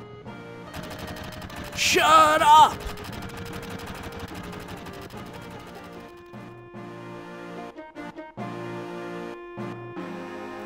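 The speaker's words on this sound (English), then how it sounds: "Damn fireworks anyways." Fireworks in the video game Final Fantasy VII crackle and pop in a loud burst of rapid bangs, with a shouted voice over the busiest stretch, then a quieter tail of sparse pops over a music bed.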